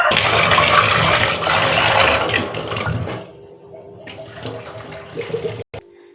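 Toor dal lentils washed with running water inside a pressure cooker, a loud steady splashing gush for about three seconds, then quieter trickling and sloshing with a brief clunk near the end.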